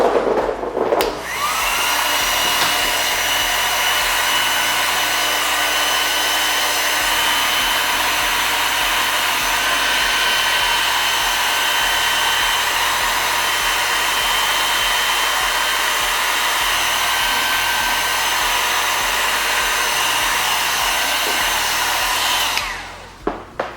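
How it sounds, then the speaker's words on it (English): Heat gun blowing steadily for over twenty seconds while warming tint film on Tesla Model X tail lights, a loud continuous airy whine switched on at the start and off at the end. "So let me try with my heat gun."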